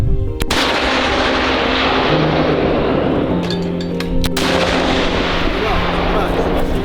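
A heavy artillery boom goes off against a constant background roar like an engine, followed by a second sharp blast a few seconds later.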